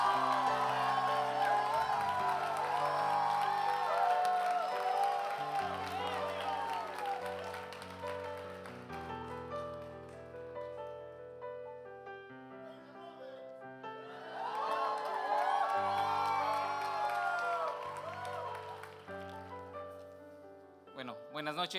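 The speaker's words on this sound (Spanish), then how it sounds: "acompáñanos felicitando juntos con fuertes palmas a Romel Arrasa con Todo Díaz." Graduation audience clapping and cheering, heard under sustained ceremonial music with swelling sections, the crowd noise faint and mixed beneath the music, with a voice speaking at points.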